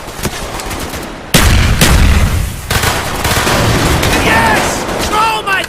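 Loud, continuous gunfire and booming blasts fill a battle scene on a ship in the Call of Duty Black Ops single-player campaign, with rapid automatic fire, a sudden heavy explosion onset and shouted voices mixed in.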